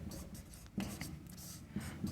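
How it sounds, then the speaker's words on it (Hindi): Chalk or marker writing on a board during a maths lesson on Euclid's division algorithm, a steady scratchy scrawl with a few sharper taps, fairly quiet and heard alone without speech. "अब अपन लिखेंगे यूक्लिड"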